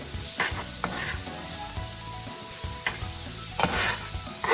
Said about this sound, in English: I'm going to let this saute just a little bit to release the flavor.